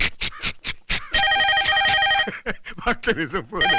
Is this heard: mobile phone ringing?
yes